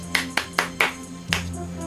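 Five sharp hand claps, quick and evenly spaced, then a short pause before the last one, close and fairly loud over a faint steady hum.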